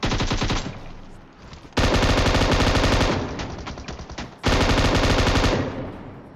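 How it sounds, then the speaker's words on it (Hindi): An M249 light machine gun in PUBG Mobile fires long bursts of rapid automatic shots, loud and close, broken by brief pauses between bursts. "मेरी M249 में 60 गोली पड़ी है"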